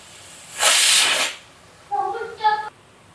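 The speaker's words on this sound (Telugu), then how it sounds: "చూడండి, విజిల్ స్టార్ట్ అయింది" Pressure cooker whistle releasing steam while gongura dal cooks on an Andhra kitchen stove: one loud, sustained hissing blast that fades out, followed by brief tonal chirps and no talk.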